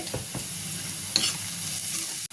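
Chopped onion, capsicum and carrot sizzle and fry in a pan while being stirred, giving a steady close hiss with a few scraping stir sounds and no talking.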